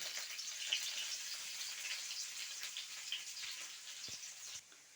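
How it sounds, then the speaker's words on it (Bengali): Steady oily sizzle of chopped onions frying in a pan, a continuous bright crackle with small pops, fairly close and constant throughout. "তেল দেওয়ার পরে এই যে পেঁয়াজ কুচিটা দিয়ে দিচ্ছি"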